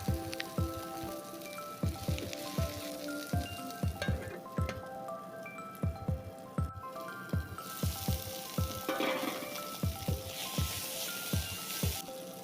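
Chopped tomatoes fry with onion leaves in a pan. A soft, steady sizzle runs under a regular series of knocks and clinks about once a second, with no talking.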